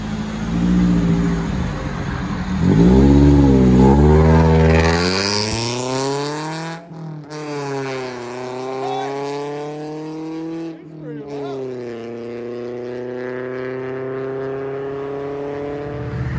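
A BMW Z3 with a 3.0-litre inline-six and a complete muffler delete revs loudly and close by, its pitch climbing and falling across repeated throttle blips, with brief dips between pulls.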